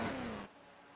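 A race car in a touring-car racing game at Monza, its engine screaming at high revs against the limiter for half a second before dropping sharply to a low hum.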